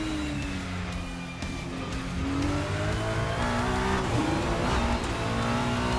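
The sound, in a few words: race car driving on the Nürburgring in a racing video game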